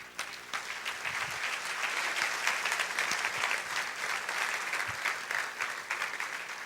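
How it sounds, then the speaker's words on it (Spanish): Audience at an insurance-industry debate event applauding a guest introduced on stage, a fairly quiet, even patter of many hands clapping for several seconds with a faint room hum beneath. "un fuerte aplauso para él"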